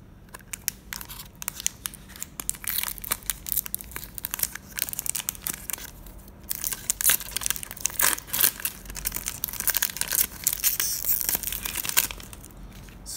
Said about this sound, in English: I'm gonna crack 6 packs of Unstable